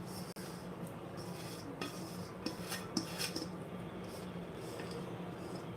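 A spoon scrapes melted ghee from a pan into carrot halwa made with jaggery, giving a steady soft scraping with a few light metallic clicks, close and alone.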